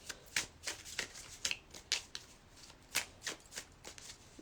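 Tarot cards shuffled by hand in a quiet room, giving a quick series of soft, crisp riffling bursts at an uneven rhythm, close and faint.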